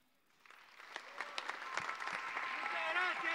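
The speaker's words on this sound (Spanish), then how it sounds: "¡Fuerte aplauso!" Audience applause after a choir performance at a tenth-anniversary concert, clapping swelling from quiet to a dense, sustained ovation with cheers, while a voice speaks over the start.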